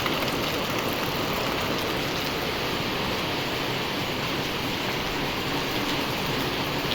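Heavy rain pours steadily onto a flooded street, a dense, unbroken hiss and patter of water that stays loud and even from start to finish, with no talking.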